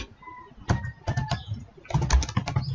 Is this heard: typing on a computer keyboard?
yes